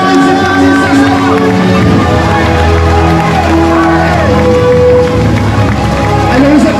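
A loud crowd cheers and shouts continuously at the start of a 75 km trail race, with a voice calling out over a dense, energetic outdoor din.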